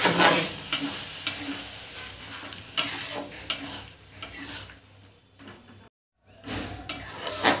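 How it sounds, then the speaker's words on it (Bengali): Spice masala fries in a pan with a little water while a spoon stirs and scrapes it, soft sizzling under irregular clinks and knocks, with a short silent gap. "এটা অল্প করে জল দিয়ে আমি এটা একসাথে দিয়ে দেবো, দিয়ে আমি মশলাটা কষিয়ে নেবো"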